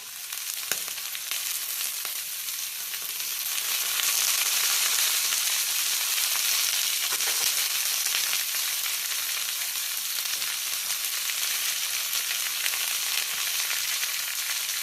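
Soaked chickpeas hiss loudly in a hot pan with turmeric for a ridged gourd and potato curry, a dense, steady sizzle that swells after a few seconds and holds close and constant.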